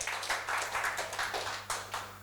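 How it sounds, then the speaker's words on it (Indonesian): A church congregation claps during a sermon, a brief run of fairly rhythmic, moderately loud hand claps from a group, with a low hum underneath. "Berikan tepuk tangan ini buat Tuhan Yesus ya"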